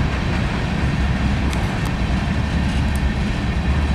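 A Norfolk Southern freight train, a manifest running east near Alliance, rumbles past with a steady, loud low roar of rolling cars and a few sharp metallic squeals near the middle.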